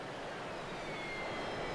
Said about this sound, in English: A Harrier hovers using rotating nozzles that direct engine exhaust downward.